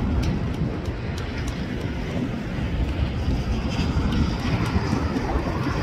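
A Lufthansa heavy jet airliner bound for Frankfurt departs LAX, its engines a steady broad roar heard from a distance across the airport, alone without talk.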